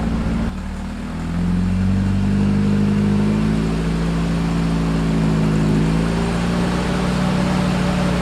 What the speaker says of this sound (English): So it also has no brakes and the throttle sticks, so let's hope I can get it in here without running into anything.